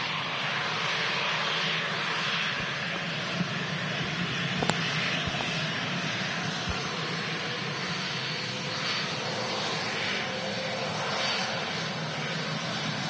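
Wizz Air airliner at Manchester Airport, heard as a steady broadband engine roar that holds at an even level throughout, like a jet taxiing or passing at moderate distance.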